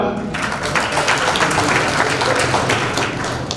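A crowd at a Jangid Brahmin community Vishwakarma Jayanti ceremony gives loud, sustained applause to welcome guests, dense clapping filling the whole stretch with no pause.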